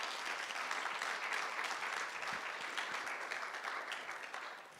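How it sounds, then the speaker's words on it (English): Steady applause from a seated audience at a guide dog school class graduation, a dense even patter of clapping, moderately distant, fading slightly near the end. "let's get a quick round of applause for the 527 graduates"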